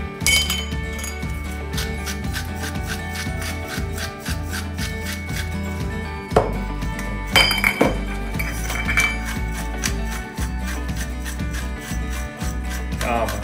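Chicken and mushroom salad being mixed with mayonnaise in a bowl, a utensil clinking and scraping in a steady rhythm under continuous background music, close and moderately loud.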